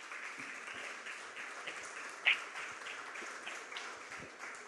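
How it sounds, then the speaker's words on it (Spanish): A church congregation gives a steady round of applause after a Spanish-language sermon, with sustained clapping from a crowd a little distant that holds even throughout, with one brief sharper clap standing out. "Denle un aplauso a Dios,"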